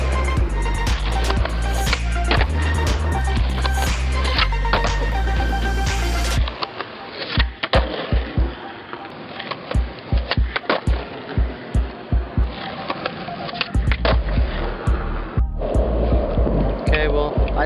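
A skateboard doing tricks on a curb: rolling wheels broken by a string of sharp, irregular board clacks and landings, close by. The first few seconds are covered by a dense, loud wash of sound.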